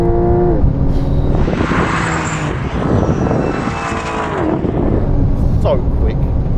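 A Dodge Challenger Demon and a Porsche 911 Turbo S launch in a drag race, engines roaring loud and close with rising revs and tyre spin, while someone talks excitedly over the noise.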